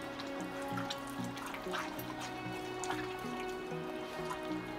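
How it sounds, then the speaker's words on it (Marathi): Spices for Maharashtrian vajari masala rinsed and rubbed by hand in a bowl of water, giving steady soft splashing and trickling with small drips throughout, no talking. "मी हे चांगलं चोळून चोळून धुतलेलं आहे पूर्ण सगळ्या बाजून।"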